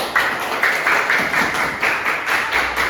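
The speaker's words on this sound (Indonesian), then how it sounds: "Silahkan duduk kembali dan kita beri tepuk tangan." Classroom applause for a student group, a modest patter of clapping from a small group of hands that swells in soft, regular pulses, fairly close and even in volume.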